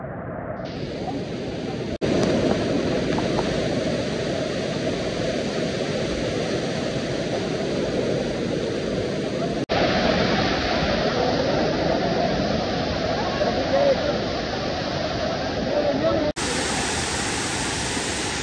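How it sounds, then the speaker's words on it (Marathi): Heavy rain from a cloudburst at Raigad Fort pours down in a dense, roaring hiss mixed with water rushing down the steps, loud and continuous from start to finish. "पाऊस कसा डेंजर चालू आहे."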